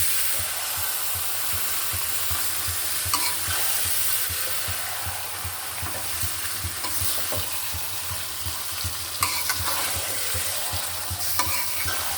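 Marinated beef frying in a pan for bhuna khichuri, a dense, loud, continuous sizzle with rhythmic stirring scrapes running steadily throughout and no talking.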